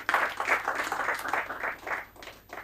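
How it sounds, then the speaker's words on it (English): A small crowd at a rap and spoken-word event in Lagos gives brief, uneven clapping in scattered bursts, fairly quiet and alone. "I think I want that round of applause."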